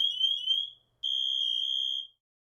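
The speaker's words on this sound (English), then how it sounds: "Use one when resetting the motion alarm and the other when testing the manual alarm." An MSA G1 SCBA control module gives two shrill electronic alarm tones, a short chirp and then a longer steady beep, loud and alone with no talking.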